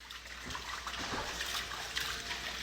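Water from a burst pipe runs and trickles across the floors of a flooded house during a Texas winter freeze, a soft, continuous splashing wash with no voices over it.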